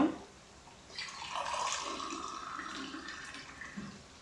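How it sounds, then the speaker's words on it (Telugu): Water runs from a tap into a kitchen sink beside the stove during chilli paneer cooking, a soft steady rush that starts about a second in and carries on fairly quietly to the end. "ఇక్కడ పక్కన సింక్ ఉందండి, అందుకే ఇక్కడ వాటర్ సౌండ్ వస్తూ ఉంటుంది"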